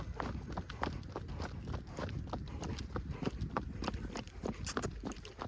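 Steady clip-clop of hooves at a walking pace, with rhythmic knocks over a noisy outdoor background and no talking.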